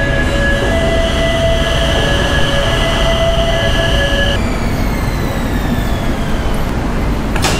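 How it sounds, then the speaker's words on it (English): A Bangkok Airport Rail Link train rumbles into a station loudly with steady wheel noise and high metallic squeals, then brakes with falling screech tones as it pulls to a stop. "I hear the train is coming."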